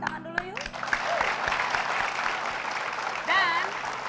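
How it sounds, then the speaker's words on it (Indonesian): Studio audience applause on a television comedy show, a sustained burst of clapping that swells after a brief pause, with a host's voice and other sounds over it. "Kita kasih tepuk tangan dulu yuk."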